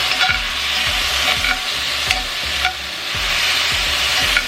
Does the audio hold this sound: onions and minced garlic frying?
yes